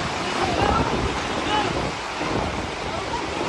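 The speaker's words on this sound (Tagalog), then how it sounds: "Maririnig pa ang paghingi ng tulong ng ilang residente habang binabayo ng malakas na hangin at ulan." Strong wind and rain lash a flooded neighborhood in La Carlota City, Negros Occidental, during Typhoon Tino, forming a steady, loud roar of rushing air and water with faint voices buried in the noise.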